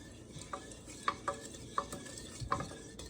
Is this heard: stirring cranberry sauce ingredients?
yes